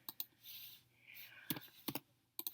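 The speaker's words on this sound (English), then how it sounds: "So I'm going to just randomly type in some numbers." Numbers are typed on a computer keyboard into a spreadsheet, producing scattered quiet key clicks and small clusters of taps, close to the microphone, with faint muffled sounds between them.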